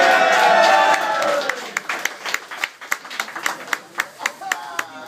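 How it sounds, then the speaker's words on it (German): Crowd applauding at a fire show, dense clapping under voices at first, then thinning into a handful of separate, rhythmic claps that ring out clearly. "Erster Applaus"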